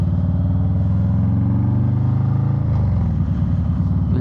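A 2022 Harley-Davidson Low Rider S with a 2-in-1 exhaust and a performance breather cam runs close by. Its deep, loping engine note is loud and steady, rising slightly before dropping back, with no voices.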